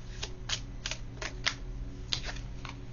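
Cards being shuffled for a card reading give a string of quiet, crisp riffling flicks, about eight short bursts in an uneven rhythm, close up and alone.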